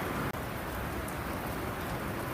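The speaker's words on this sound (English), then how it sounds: "The rain's starting to pick up out here" Steady outdoor rain falls on plants and ground in a dense, even hiss, close and continuous with no pauses or voices.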